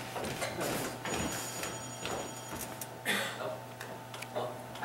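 A telephone rings on stage during a theatrical musical performance, thin repeated ringing tones over a quiet room with faint background shuffles.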